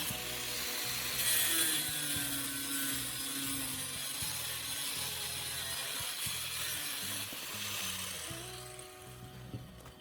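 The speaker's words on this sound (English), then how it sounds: "It cuts through the wood with incredible ease and precision, a stark contrast to the original grinding disc." An angle grinder fitted with a custom steel plate blade cuts through wood, giving a steady, loud, continuous rasping whir with a rattling mechanical edge that keeps going for the whole stretch and eases slightly near the end.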